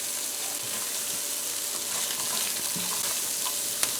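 Chopped scallions and celery fry in a pan for veggie fried rice, giving a steady, even sizzle with occasional soft stirring scrapes and a brief clink near the end.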